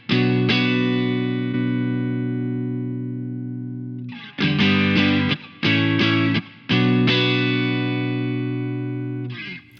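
An electric guitar runs through the Safari Pedals Rabbit Tape saturation and modulation plugin, giving a thick, saturated tone: a long ringing chord followed by several choppy strummed bursts, no voices.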